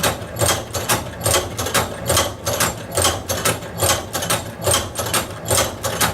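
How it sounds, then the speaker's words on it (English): A hand-operated Cowboy Outlaw leather sewing machine stitching leather makes a steady, close ratcheting clack, with one mechanical stroke repeating roughly every half second. "handle all the way to the up position, and we'll go ahead and take a stitch"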